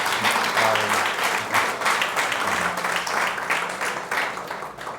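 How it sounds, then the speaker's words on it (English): A room full of people at a Hamptons gathering gives a sustained round of applause, dense and steady throughout, alone with no talk over it. "another round of applause"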